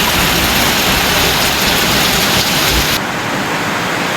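Steady heavy rain pours down without pause, a dense, loud hiss that fills the whole scene and drops slightly in level near the end, with no talking heard.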